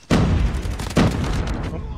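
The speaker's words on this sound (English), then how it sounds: "That grenade should kill someone there." Two heavy booms sound close together in a ranked online shooter match, one at the start and another about a second later, each a loud blast trailing into rumble.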